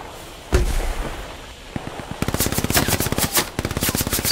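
Battle of Kursk in a WWII video game: a heavy tank gun booms once, then a few scattered shots lead into long, rapid bursts of machine-gun fire that rattle loudly to the end.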